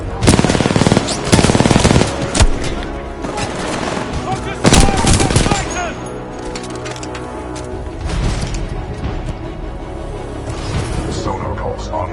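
A Titan in Titanfall 2 lays down supporting fire: rapid, loud bursts of heavy automatic gunfire up close, with a booming report and mechanical clatter, alongside spoken radio-style voice lines.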